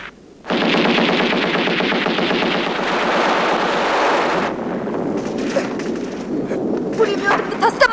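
Machine gun fire in a 1969 Soviet war film, rapid continuous bursts close and loud for several seconds, then scattered shots and shouting voices as the firing breaks off.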